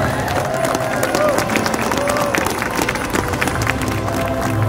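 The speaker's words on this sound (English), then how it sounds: "how about a round of applause for that crew?" A crowd at an outdoor Christmas tree lighting in Evansville, Indiana applauds with dense, continuous clapping mixed with scattered voices and a few cheers, sustained throughout.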